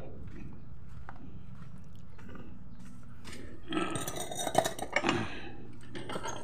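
A metal cooking pot being washed, with pots and utensils clinking and scraping in a short burst of clatter in the second half over a steady low background hum.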